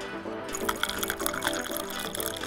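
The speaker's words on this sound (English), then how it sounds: "Add your tea leaves and some hot water." Hot water poured onto tea leaves inside a hollowed-out orange rind gives a steady trickling, gurgling pour with faint drips, heard close over soft background music.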